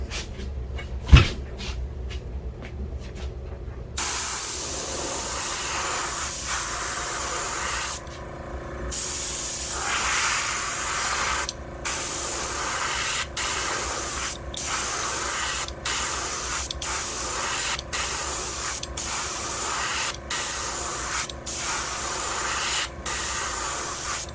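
Spray can hisses in repeated short bursts as light coats of paint go onto a Megabass 110 Jr shad fishing lure blank, a long steady spray followed by a regular series of brief pulses, close and loud.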